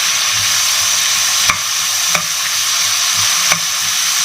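Beans, carrots, capsicum and potato hit a hot mustard-seed tempering for mixed vegetable sambar, frying with a steady loud sizzle and a few sharp spoon-against-pan stirring clicks, no voices.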